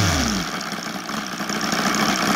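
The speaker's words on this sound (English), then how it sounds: "it comes back to the idle fairly quick" An OS Sirius 7 FR7-420 radial gasoline engine with CDI ignition drops quickly from a higher rev back to a loud, steady, close idle with a throbbing, slightly knocking running sound.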